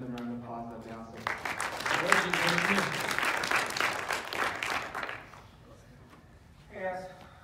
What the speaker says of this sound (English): So if you give them a round of applause, that'd be awesome